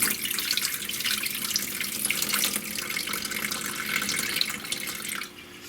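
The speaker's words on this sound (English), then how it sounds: "So we're gonna just dump out all of this liquid here." Soaking liquid from tempeh beans poured out into a kitchen sink, a steady loud gush of water splashing and draining for several seconds before cutting off abruptly.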